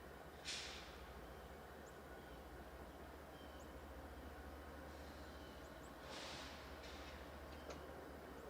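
A freight manifest train, with six locomotives in a colorful consist, slowly approaches and comes to a stop on single track in Blanchard. It sounds as a steady distant rumble with faint brief squeals and hisses.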